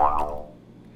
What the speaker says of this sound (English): It's just a jaw harp